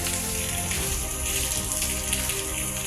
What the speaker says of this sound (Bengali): আপনারা দেখতে পাচ্ছেন যে আকাশ জুড়ে বৃষ্টি আর বৃষ্টি